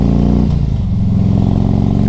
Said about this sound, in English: Guys, this bike runs great, sounds great